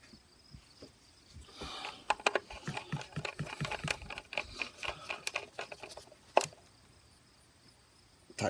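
A Torx T30 bolt is tightened by hand on the 2.4L engine of a Jeep Compass, giving a quiet run of quick ratchet clicks that lasts a few seconds and ends in a single sharp snap.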